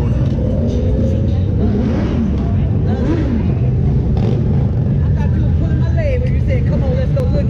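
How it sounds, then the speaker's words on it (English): A Spirit Challenger 2022 motorcycle with a Chevrolet Corvette LS3 V8 engine rumbles loud and steady at a busy Thunder Beach fall rally in Panama City Beach, with crowd chatter and nearby voices over the engine. "V8 engine, LS3."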